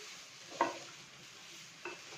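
Chicken soft noodles being stirred and mixed in a pan, two quick utensil scrapes and clinks about a second apart over a faint, steady sizzle.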